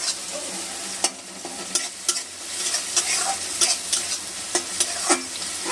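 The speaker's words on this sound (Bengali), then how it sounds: "ভালো করে ভাজা হয়ে গেছে মশলাটা" Steady sizzling of spice masala frying in a pan, punctuated by repeated sharp scrapes and clicks of a spatula stirring, close and fairly loud.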